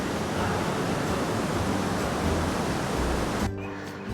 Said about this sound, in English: Listen to that water roll.